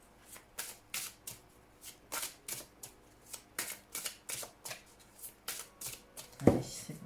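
Tarot cards riffled and shuffled by hand in a steady run of quick, close bursts, about a dozen soft flutters, ending in a firmer tap as the deck is squared.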